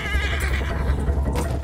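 Horse neighing in the Battlefield 1 single-player campaign, a close, loud whinny with a wavering pitch that lasts over a second, set over low rumbling game noise.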